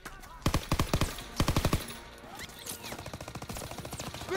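Gunfire in Call of Duty WWII: loud bursts of rapid automatic shots in clustered volleys, followed by a steadier stream of evenly spaced rounds, close and dominant with no speech over it.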